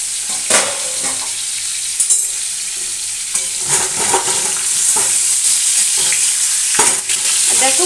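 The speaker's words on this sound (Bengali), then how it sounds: "দেখো এখনো অনেক পটল ভাজতে মানে সময় নেবে" Pointed gourd (potol) frying and being stirred in a pan, with a steady broadband sizzle and irregular scraping clatter from the spatula throughout, close and fairly loud, no talking.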